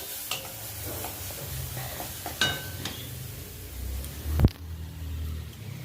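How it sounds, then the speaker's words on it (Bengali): Seeds frying in a pan on a gas stove, a low sizzling hiss with a few light scrapes and clinks, ending in a sharp metallic knock near the end. "যে বীজগুলো ঢেলেছে সেইগুলো ভাজছে এখন"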